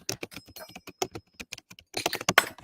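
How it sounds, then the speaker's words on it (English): Rapid, uneven clatter of keys typed on a keyboard, with close, crisp taps in short bursts separated by brief pauses and a denser flurry near the end, with no voices. "Typing. All right. Typing."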